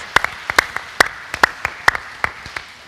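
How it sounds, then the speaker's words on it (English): A handful of distinct, evenly spaced claps ring out at a Parkinson's disease conference session in Iowa City, sharp and close, with no talking. "And now a big, nice round of applause for all of you guys."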